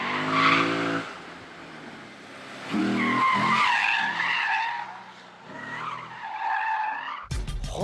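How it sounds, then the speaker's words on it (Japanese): A Lexus drifts on a narrow mountain touge road, its tires squealing loudly in long, wavering screeches that rise and fall through the slide, ending in an abrupt burst of noise. "この狭いコースでなんとレクサスを振ります。"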